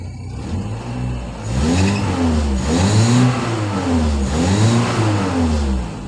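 A CNG-converted car's engine revs up twice from idle while a gas reducer is being tuned, rising and falling in a labored, uneven surge close to the engine.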